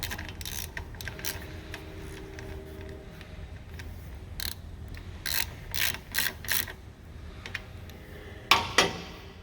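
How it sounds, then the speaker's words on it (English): A hand ratchet snugs nuts during assembly of a Trailmaster Mini go-kart, giving repeated close clicking bursts of pawl ratcheting over a low background hum, with a louder pair of clicks near the end. "Then go back and tighten your nuts, and don't get them real tight, just snug them."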